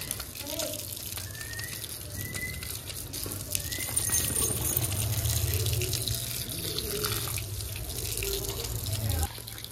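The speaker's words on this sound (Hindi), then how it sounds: "ये सारी मट्टी पहले तेज़ धार से निकालनी पड़ेगी" A strong stream of water from a hose or tap rinses mud off a Rottweiler outdoors, a steady splashing wash that runs continuously throughout with faint background voices.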